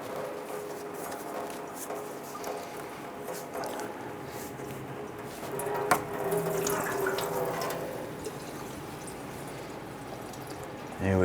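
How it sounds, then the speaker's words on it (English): Coolant splashes and trickles steadily from a disconnected radiator hose on a 1994-2004 Ford Mustang, a close, continuous watery pour with faint clinks of work around the engine bay. "You might get some coolant out of this as well"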